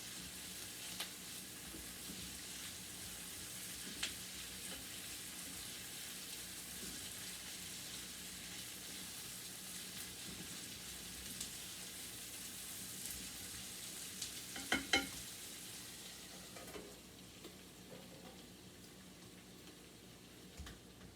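Vegetables sauté in a pan for lentil soup with a faint, steady sizzle and occasional soft stirring clinks, quiet and distant throughout.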